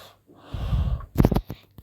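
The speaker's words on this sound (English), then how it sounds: "my mom is snoring even so loud" A mother snores loudly nearby with a couple of rough, snorting breaths, a raspy inhale and then a sharper snort, heard alone in a quiet room.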